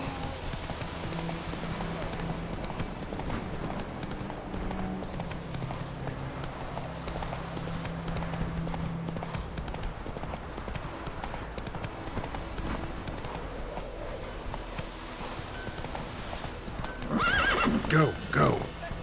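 In the video game The Witcher 3, a horse gallops with steady rhythmic hoofbeats, and a sharp neigh bursts out near the end, while a voice speaks over the riding.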